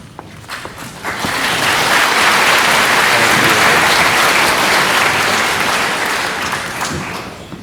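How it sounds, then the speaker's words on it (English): Loud, dense applause from a large audience at a sixth grade promotion ceremony at Freeman-Kennedy school. It swells within the first second and holds steady for several seconds. "Another round of applause for the sixth grade students."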